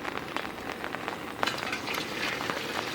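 Steady rain patters and crackles outdoors during a cooking session while oil heats on a stove, a dense close hiss with scattered sharper drops and no talk.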